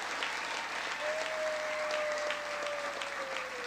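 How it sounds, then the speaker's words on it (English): A crowd applauds steadily at the Texas Rangers championship trophy and key-to-the-city presentation, with a sustained wash of clapping from many hands and a faint whistle tone partway through. "big round of applause for all those who made their way here today"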